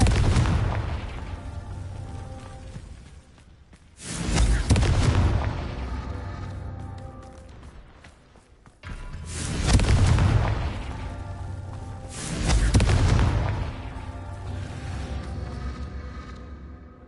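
Confringo and Bombarda explosion spells cast in the game Hogwarts Legacy, several booming magical blasts with rumbling tails repeating every few seconds, loud and close.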